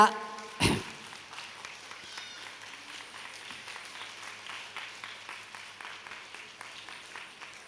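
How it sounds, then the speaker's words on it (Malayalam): An audience applauds at a Palakkad cultural stage event with a steady, moderate patter of clapping after a sharp opening thump, with faint voices underneath. "ഒന്ന് ഉഷാറായിട്ട് കൈയടിച്ച"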